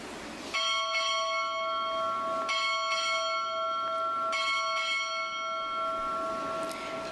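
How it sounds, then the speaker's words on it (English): A ship's bell rung at a Naval ROTC boot camp graduation, struck six times in three pairs of sharp, ringing strokes with long overtones, loud and clear over a quiet hall. "Time orderly, strike 6 bells."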